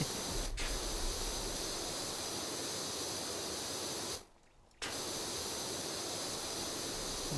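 Pressure washer jet spraying wood in the PowerWash Simulator video game, a steady loud hiss of spray that cuts out for about half a second midway, then resumes.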